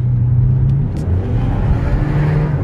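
An Audi RS6 running on diesel with a turbo accelerates, giving a loud, low, steady engine drone and rumble from inside the car, with a brief whir partway through.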